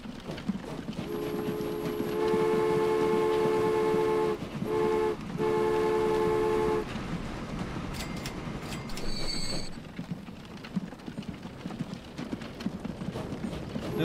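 A train in the Transport Fever video game sounds a sustained, multi-tone horn chord for several seconds, followed by lighter rail clatter and a brief high squeal over a steady background of game ambience.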